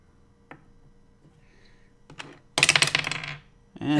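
Dice tumbling during a tabletop role-playing game, a few small clicks and then a louder clattering burst as the dice land and scatter on a hard surface, close by with no talking.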